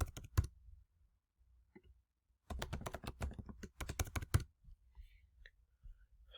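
Keystrokes on a computer keyboard as a password is entered while setting up an Azure virtual machine: a few quick clicks, then a dense burst of close typing, and scattered softer taps after.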